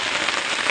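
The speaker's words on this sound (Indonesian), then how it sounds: "Ini hujan, kita diguyur hujan." Heavy rain pours down on a campsite, a dense, loud, hissing downpour drumming on surfaces without pause.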